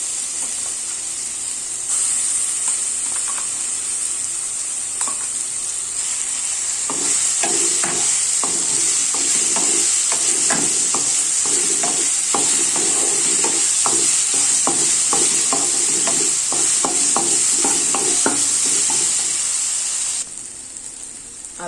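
Ginger, garlic and red chili paste sizzles and spits steadily in hot oil, with irregular stirring clicks and crackles running throughout at close range and no talking.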